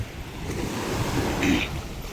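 Fast-flowing water with small waves lapping, a steady broadband rush with a slightly louder swell near the middle, no voices.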